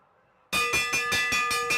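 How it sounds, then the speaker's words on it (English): Lap bell at a Madison track cycling national championship race, rung steadily with about seven loud metallic clangs in regular rhythm, starting abruptly after a quiet moment. "gonna hear the bell when he comes around"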